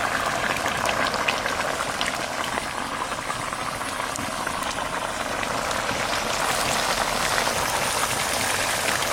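A pot of cucumber and potatoes boils hard on the stove, a dense, steady bubbling and seething that stays loud and unbroken throughout.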